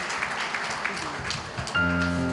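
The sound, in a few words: audience applause welcoming a pastor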